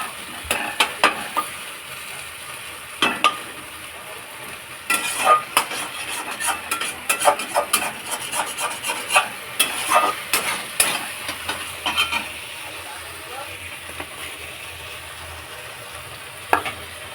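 A spoon stirs food frying in a pan, scraping and clinking against the metal in irregular bursts over a low, steady sizzle, heard close with no talk.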